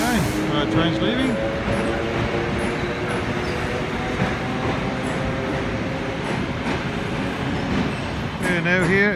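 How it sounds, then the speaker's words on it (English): A train rumbles and rattles steadily, with clattering wheels and rising mechanical whine as it gets under way from Yerevan, Armenia; voices talk faintly in the background. "Okay, our train's leaving."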